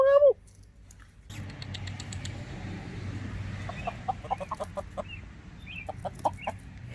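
Chickens and turkeys cluck in short, scattered bursts at close range during a feeding of walnuts and peanuts outdoors, the calls rising over a low steady rumble after a brief quiet start.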